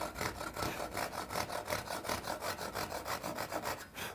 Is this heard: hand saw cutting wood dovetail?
yes